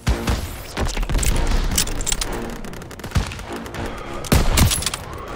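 Dense bursts of gunfire in a World War II battle from the Call of Duty WWII video game, with rapid overlapping shots, heavy booming impacts and sharp loud cracks that come and go over a continuous din, alongside occasional shouts.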